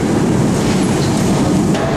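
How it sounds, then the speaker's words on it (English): A small train pulls into a Budapest station, giving a steady, loud rail rumble with a low clatter of wheels that holds evenly for two seconds. "And that's our train."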